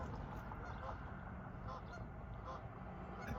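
Geese honking near a swan's nest at Weymouth, faint and distant calls scattered over a steady low outdoor rumble.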